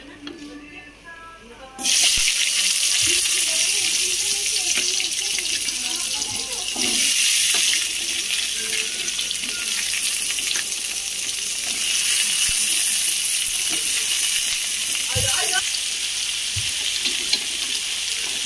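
Vegetables drop into a hot pan and burst into a loud, continuous sizzle that holds steady for many seconds, with occasional scrapes of stirring close by.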